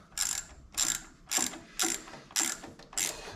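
Small ratchet wrench working on the starter of a Generac generator, six evenly spaced bursts of rapid clicking, close and crisp, with quiet gaps between strokes and no speech.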